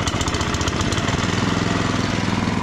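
A lawn aerator's small gasoline engine, started on choke, fires up and runs with a loud, rapid, chugging putter close by, a steady throbbing rhythm with no voices.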